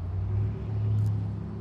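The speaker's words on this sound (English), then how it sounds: "We got cars running through" Cars drive through downtown Lexington: a steady low engine and road rumble with a faint brief hiss, heard near and continuous for under two seconds, without talk.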